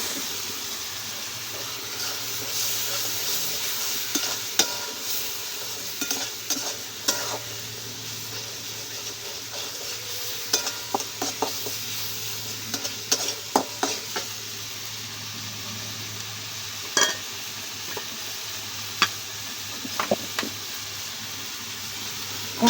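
Turmeric, chilli and coriander powders are stir-fried in a pan for a village-style fish curry with vegetables, giving a soft steady sizzle over which a utensil repeatedly scrapes and clicks against the pan in irregular bursts.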